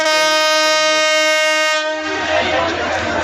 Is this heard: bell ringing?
no